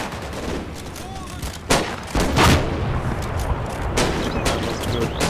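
Gunfire and explosions from the WWII tactics game Combat Mission Battle for Normandy, with dense, continuous rattling and booms and several louder blasts over a busy battle din.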